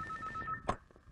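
A telephone rings in a comedy film scene: a short electronic ring tone pulses a few times, then stops with a brief click.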